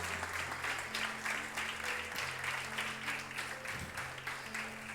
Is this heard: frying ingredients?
no